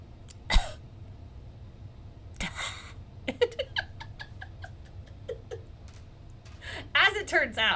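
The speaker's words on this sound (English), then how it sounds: "huffing and puffing in the mic" Heavy breathing and huffing close into a microphone comes as scattered breathy bursts and puffs between stretches of talking.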